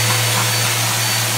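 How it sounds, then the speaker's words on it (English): Vacuum cleaner running loud and steady inside a counter during a studio renovation, a constant whining roar with a low hum beneath. "Vacuuming inside the counter."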